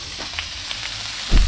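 Food sizzling and frying in a pan over a campfire while camping in the bush, a steady hiss with faint crackles and a louder burst of stirring or scraping near the end.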